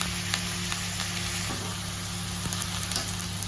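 Turmeric, salt and chili powder are stirred in a sizzling pan for paneer kolhapuri: a steady close frying crackle with a low hum underneath and occasional scraping taps from stirring.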